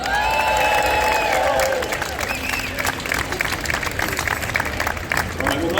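A large outdoor crowd cheers and applauds for the Sydney Street Choir at its 2025 Sing Out, sustained clapping and shouts filling the space, with a loud whistle-like voice rising early before the cheering settles into steady applause.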